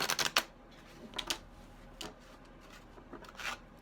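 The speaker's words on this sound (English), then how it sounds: "I shuffle until I feel that stop moment." A deck of tarot cards is shuffled by hand, a quick flurry of crisp riffling snaps at the start followed by softer, intermittent card slaps and rustles, close and quiet with no speech.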